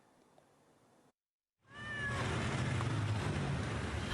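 A local mixed-breed or Angora tomcat, trapped on the roof of an empty building, gives a rising meow within loud, steady outdoor noise after a short gap of silence.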